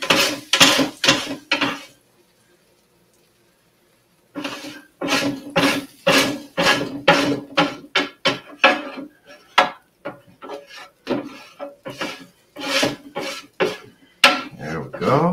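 Rough metal scraping across a hot Blackstone E-Series griddle in quick repeated strokes as it is cleaned, with a short pause before the scraping resumes in irregular bursts.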